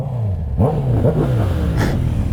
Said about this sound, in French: La voiture derrière fait plus de bruit.